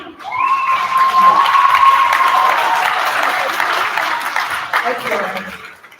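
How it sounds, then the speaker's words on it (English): Warm, sustained applause from a concert audience for the accompanist, a full crowd clapping with a cheer or whoop near the start, fading out over several seconds. "So give her a big round of applause and big thank you."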